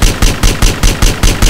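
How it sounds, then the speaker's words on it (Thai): Rapid automatic gunfire in GTA San Andreas, about eight loud, evenly spaced bursts in quick succession, close and uninterrupted with no voices. "ยิงไปรัวๆได้ตายแล้วบอกกูแล้วกันนะ"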